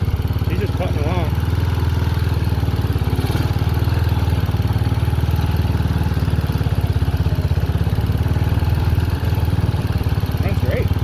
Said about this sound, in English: Well, the idle's definitely too high, so.